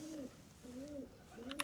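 Pigeons nesting in a ruined, abandoned hacienda give three soft, rounded coos in slow succession, fairly close and alone without talk.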